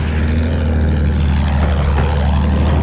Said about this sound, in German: Flugzeug in Sichtweite.